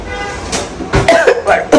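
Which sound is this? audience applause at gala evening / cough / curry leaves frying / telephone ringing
cough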